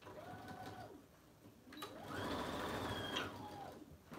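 A sewing machine stitches the lining of a 2-in-1 bag, its motor whirring in short runs that rise and fall, with a longer, louder stretch in the middle, close by and with no talking.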